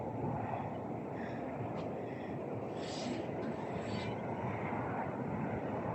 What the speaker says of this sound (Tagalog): Yan po yung eroplano na iba yung pinaglandingan guys.